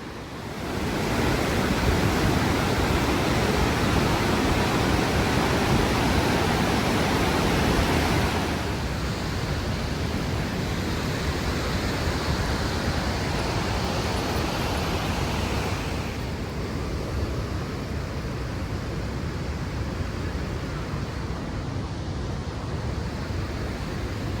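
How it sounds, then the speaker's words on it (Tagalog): Bow Falls in Banff National Park, Alberta, a broad waterfall heard as a steady, loud roar of rushing water with a continuous dense wash that eases slightly partway through, nothing else standing out. "So this is the Bow Falls here in Banff National Park"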